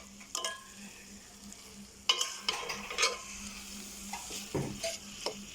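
Taro leaves frying in a pan while being stirred, with intermittent spatula scrapes and clinks against the pan over a low sizzle, in irregular bursts.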